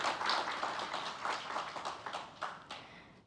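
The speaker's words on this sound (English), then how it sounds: "A round of applause for our panelists" Audience at a Rwanda Nordic-Baltic forum claps for the panelists, a fairly quiet, brief patter of hands that thins out within a few seconds.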